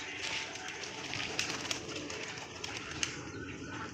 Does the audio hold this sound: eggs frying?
no